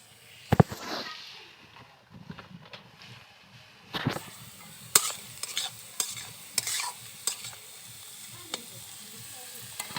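Fried rice ingredients fry and get stirred in a pan, with crackling sizzles and sharp scraping clatters of a utensil coming in irregular bursts, close and fairly clear, with no voices over them.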